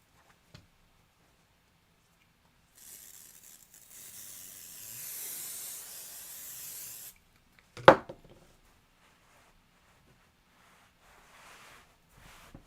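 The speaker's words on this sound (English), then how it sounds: "I'm just going to spray this down" A spray bottle misting a quilt fabric block, heard as a soft, continuous hiss lasting about four seconds in a quiet room, followed by a single sharp knock as something is set down.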